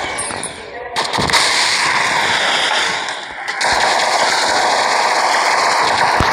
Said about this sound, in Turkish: Bomba attık.